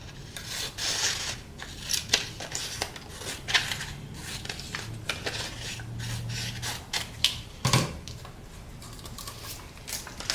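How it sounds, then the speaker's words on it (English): Scissors snip and trim a paper craft hat piece for a leprechaun hat hair clip, giving a steady run of close, crisp cuts and rubbing paper sounds with a sharper clack near the end. "although I'm gonna need to trim it a little bit."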